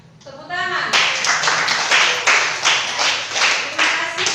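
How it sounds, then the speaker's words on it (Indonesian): A classroom of students claps after a group presentation, starting with a short voice then breaking into brisk, closely spaced clapping that stays loud and rhythmic to the end. "Tepuk tangan"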